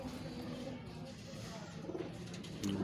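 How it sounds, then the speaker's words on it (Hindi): Low, soft cooing from a Missa pigeon rolls along beneath steady background noise, with a slightly louder burst near the end. "आज ये प्योर मिस्सा कबूतर दिखा रहे हैं"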